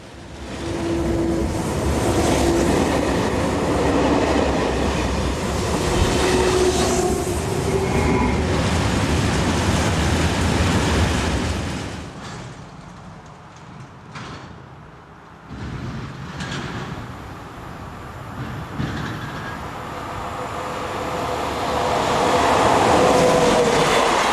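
A convoy of railway locomotives of four different types rolls into a quiet European station yard, a loud sustained rumble of engines and wheels that dips mid-way, then swells again nearby.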